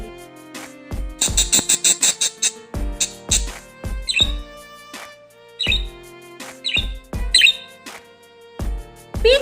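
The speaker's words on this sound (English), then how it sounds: "Budgerigar sound name whistle." A budgerigar's chirpy whistles and squawks come in short, loud, close bursts with gaps between them, set over a steady musical background of plucked notes.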